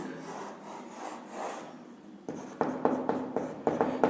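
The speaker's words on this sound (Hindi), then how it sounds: "हाँ यहीं पे लिखते हैं" A marker or chalk scratches in quick, repeated strokes across a board while someone works through a maths problem. Quiet rubbing comes first, then sharper, rhythmic writing strokes close by.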